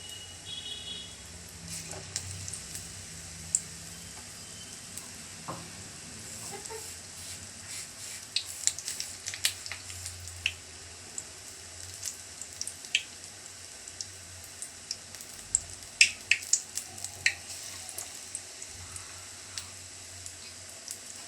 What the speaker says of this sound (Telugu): బజ్జీలు వేస్తున్నాను.